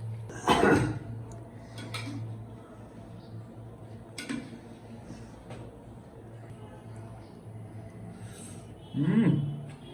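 Pots and utensils clatter while a husband cooks beef curry in a home kitchen, with a sharp clank near the start and another near the end over a steady low hum and scattered lighter clinks.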